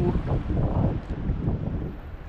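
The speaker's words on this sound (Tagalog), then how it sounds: "Lumakas na yung hangin." Strong wind buffets the microphone in rough, uneven gusts at a fishing spot, a loud rumbling roar with no voices.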